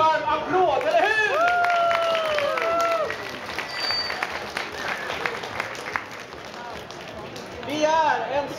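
Warm applause from an audience at a Star Wars fan convention in Gothenburg, steady clapping with crowd noise swelling near the end, while voices talk over it at the start.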